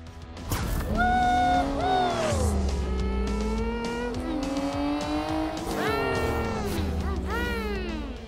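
Hot Wheels toy cars race along a track over slime, rendered as bright, whining engine tones that rise and fall continuously across the clip, loud and close, with a brief dip near the middle before the revving resumes.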